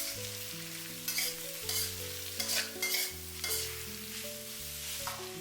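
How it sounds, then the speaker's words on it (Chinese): Bitter melon and eggplant stir-fried in a wok with ginger, garlic and chili: a few brisk scraping, tossing bursts over a soft sizzle, with steady background music throughout. "接下来把准备好的辅料倒在锅中，快速翻炒均匀，炒出姜蒜小米椒的复合味，把苦瓜和茄子炒出蒜香味"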